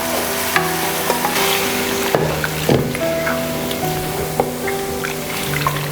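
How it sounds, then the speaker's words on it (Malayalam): Boiled mutton and its stock hitting a hot pan for mutton chukka, a dense, continuous sizzle with stirring clatter and a faint steady hum underneath, close and loud with no talking. "മട്ടനും അതിൻ്റെ സ്റ്റോക്കും കൂടി ഇതിനകത്തേക്ക് ഒഴിച്ചു കൊടുക്കാം"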